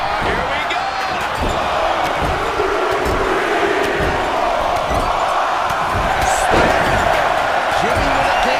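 A packed arena crowd roars and cheers throughout a WWE 2K25 wrestling match, a dense sustained wash of noise broken by sharp impacts, with commentary running underneath.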